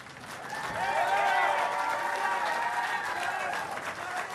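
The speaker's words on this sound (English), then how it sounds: "how about another nice round of applause for our 2 finalists?" An audience at a 2015 Class B and A boys' state finals awards ceremony applauds the two finalists, a steady wash of clapping from a crowd that swells quickly, holds for several seconds, then slowly eases.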